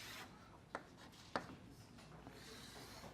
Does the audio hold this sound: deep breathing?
no